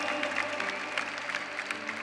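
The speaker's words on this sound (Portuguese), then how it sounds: "E vocês podem aplaudir porque eu nunca vi" An audience applauds at a church talk, a dense, steady clapping that is moderately loud and continues for the whole two seconds without a break.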